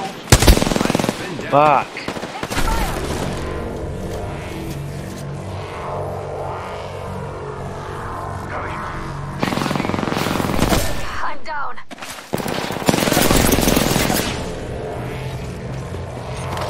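Gunfire in the Apex Legends video game: loud rapid automatic bursts close by, broken by brief pauses and a sharp cutoff near the end, with a short spoken exclamation in between.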